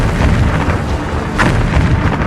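Explosions at air bases in news footage, a dense run of loud booming blasts and crackling bursts rolling one after another, with one sharper burst midway.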